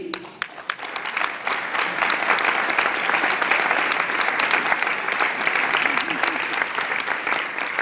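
A dinner audience breaks into sustained applause to welcome a speaker, steady clapping from many hands that builds quickly and holds, with a few voices underneath.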